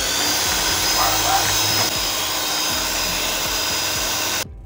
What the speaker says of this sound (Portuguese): com a batedeira a gente vai misturar isso aqui